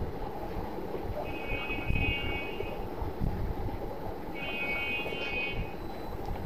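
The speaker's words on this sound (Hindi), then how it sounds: "देखो हमारी मशीन चल गई है 300 आरपीएम पे" A CB28 pump on a test bench machine runs at 300 RPM, producing a steady mechanical drone and hum, with two brief higher-pitched whines rising over it partway through.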